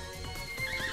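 A horse neighs in the video game Miitopia, a brief whinny with a faint clip-clop of hooves over a game soundtrack, lasting about a second with no talking.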